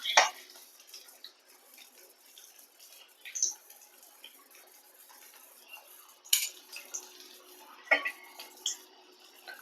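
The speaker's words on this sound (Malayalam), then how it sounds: "ഒരു പ്ലേറ്റിലോട്ട് ഇനി മാറ്റാം" Fried pineapple slices lifted from a pan onto a plate with utensils, giving a few sharp metallic clinks and taps scattered over a quiet background, with soft kitchen handling noise between.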